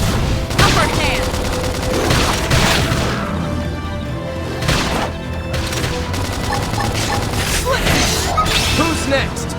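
Gunfire and explosions during a battle in the Xenoblade Chronicles X Definitive Edition video game, dense rapid shots, crashes and booms mixed with music and in-game voices.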